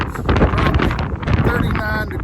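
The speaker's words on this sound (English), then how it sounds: "man, is it windy and cold" Wind buffets the microphone at the Lover's Leap lookout on a cold day, a steady loud roar with gusty surges throughout while someone talks over it.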